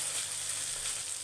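Ginger, garlic and green chili paste fry in a pan with a brief, even, close sizzle and no other sounds.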